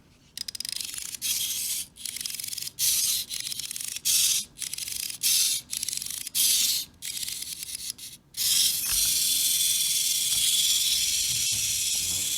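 Wind-up Poochie robot dog toy running: an intense, raspy mechanical whirring close by, pulsing in short bursts at first, then settling into a steady continuous buzz.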